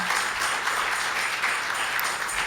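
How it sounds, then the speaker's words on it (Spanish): Steady applause from a church congregation, a continuous wash of clapping at moderate level with no voices on top. "Un aplauso ahí para Celina, de verdad."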